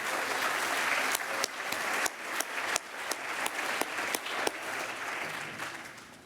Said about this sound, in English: A round of applause one more time for all of them